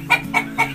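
A backyard-farm chicken clucks three short, close clucks in quick succession, evenly spaced and fairly loud.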